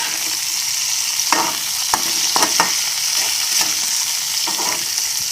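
Okra stir-frying in hot oil in a pan, a steady close sizzle throughout with occasional sharp scrapes and taps of a stirring utensil.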